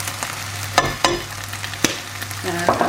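Black mustard seeds hitting hot oil in a pan for an Indian side dish, giving a close, even sizzle broken by a few sharp clicks and pops or utensil taps, with no talk.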